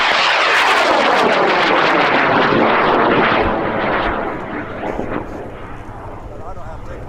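A high power amateur rocket launching at Airfest 28 in Argonia, Kansas, with a loud, roaring motor burn that starts close and strong, then fades and recedes as the rocket climbs away.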